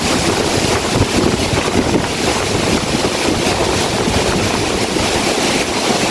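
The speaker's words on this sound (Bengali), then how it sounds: "দেখতে পাচ্ছেন কি গতিসীমা বাতাসের" Strong storm wind from Cyclone Remal roars without pause in Barisal, buffeting the microphone, with water churning underneath; no voices.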